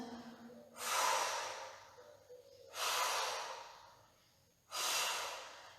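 Deep breathing during a Pilates class exercise, three long loud breaths spaced about two seconds apart, each a broad airy whoosh, close and clear with no talk.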